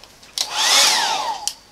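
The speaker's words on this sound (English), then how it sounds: "I'm going to get my hairdryer out and dry the rest of it." A hairdryer whirs up to a steady blowing roar for about a second, then cuts off, with small clicks at the start and end.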